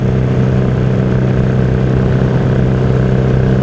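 A 1977 Yamaha XS650 engine running through unpacked shorty mufflers, a loud, steady, throbbing idle close by, constant throughout with no revving and no voices.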